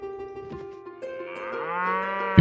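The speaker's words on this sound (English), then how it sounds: "You encounter a herd of cattle." Cattle in a herd moo in the video game Mount&Blade Warband, with two long, drawn-out bellows in close succession, the second rising and louder, with no voices.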